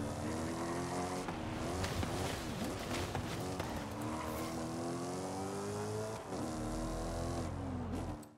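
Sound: car engine revving in the Forza video game

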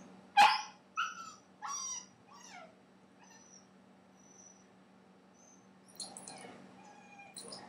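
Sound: dog barking while trying to escape

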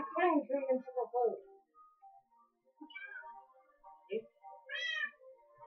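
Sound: cats meowing in the video game Minecraft

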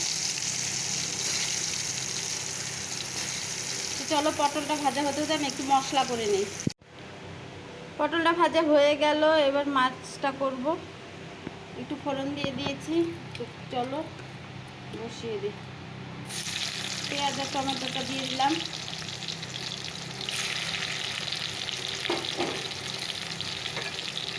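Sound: pointed gourd (potol) frying in leftover oil

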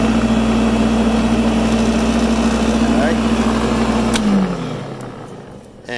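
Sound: Greenworks corded electric dethatcher power rake running

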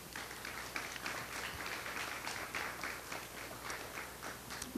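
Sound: audience applause for symposium speakers

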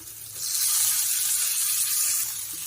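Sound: frying in oil in a pan

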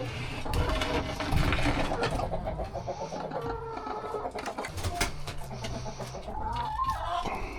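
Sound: chickens clucking

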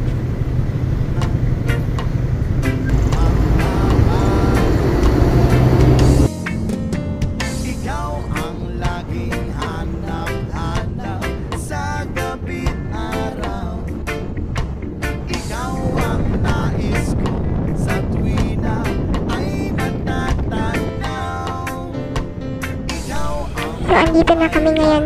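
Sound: road traffic

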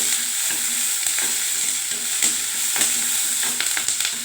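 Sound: chana dal frying in oil

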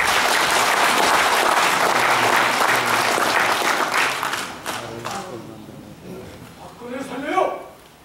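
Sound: audience applause welcoming a speaker

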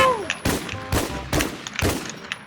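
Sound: gunfire in the video game Infestation The NewZ

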